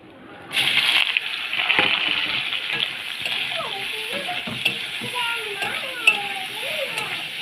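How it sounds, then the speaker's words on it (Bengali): Chopped pointed gourd (potol) sizzles loudly in hot oil with cumin seeds, a steady broad frying hiss that starts abruptly and continues throughout, while someone talks over it. "ভালো করে এবার ভেজে নেব"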